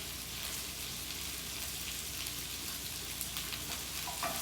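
Snap peas and red peppers stir-frying in a nonstick pan during a shrimp stir-fry, a steady loud sizzle with faint crackles throughout, no voices.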